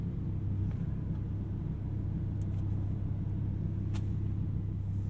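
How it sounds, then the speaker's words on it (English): An Audi engine running on the road, heard as a steady low rumble and drone from inside the car, even and moderately quiet throughout, with only a couple of small ticks on top. "is a beautiful sounding engine"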